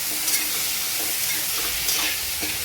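Steady sizzling as boiled chickpeas are stirred in a hot pan of tempering oil, with soft scraping and stirring sounds throughout, close and continuous.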